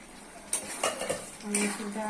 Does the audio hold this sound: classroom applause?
no